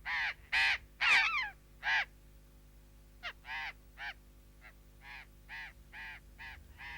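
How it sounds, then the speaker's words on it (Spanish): Burrowing parrots (loro tricahue) give a series of harsh, raucous calls, loud and clustered at first, then a steadier run of shorter, fainter calls over a low background rumble. "El loro tricahue es un ave muy sociable e inteligente."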